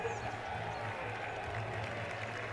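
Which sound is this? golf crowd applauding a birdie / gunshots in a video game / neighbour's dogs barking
golf crowd applauding a birdie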